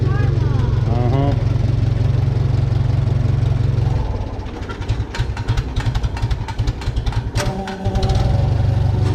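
An old Farmall B farm tractor engine warming up runs with a loud, steady low throb that roughens and sputters partway through before settling back into its idle, heard close with no talking.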